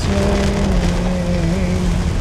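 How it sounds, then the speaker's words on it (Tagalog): Steady rain pours down in a dense, continuous hiss with an underlying low rumble, heard close and alone throughout the short stretch. "It's raining"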